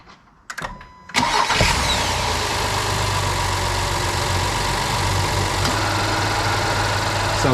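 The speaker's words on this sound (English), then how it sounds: "So now I'm gonna start the car and idle for 10 minutes." After a Liqui Moly engine flush, a car engine cranks and catches following a few brief clicks, then settles into a steady, even idle that holds close and constant.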